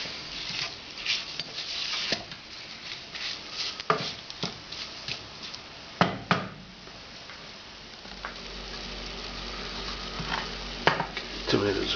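Spices and onion cooking slowly in a pan for a Goan vindaloo, with a soft steady sizzle under scattered stirring scrapes and a few clinks of a utensil against the pan.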